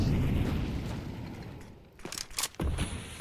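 A grenade explodes in Counter-Strike 2 during a tournament broadcast: a loud, broad rumbling blast that slowly fades, followed by a few sharp bursts and pops of in-game gunfire and action.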